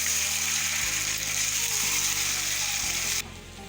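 Spices for a chicken and chickpea curry fry in a pot, giving a steady, moderately quiet sizzle that suddenly drops off near the end.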